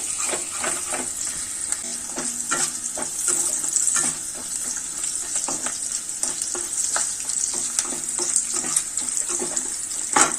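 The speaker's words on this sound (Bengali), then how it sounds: "এটা দিয়ে দিলাম। এবার ভাজতে থাকি, ভাজা ভাজা একটু ভেজি" Grated ginger frying in a pan while making paneer butter masala, a continuous close sizzle and crackle with occasional scraping stirs throughout.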